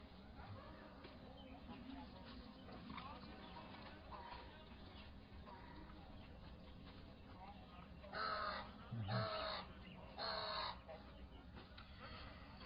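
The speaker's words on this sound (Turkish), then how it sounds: "Hayır çağır kargacığım." A crow caws outdoors where people are picnicking. Three loud, harsh caws come close together near the end over a steady murmur of background noise.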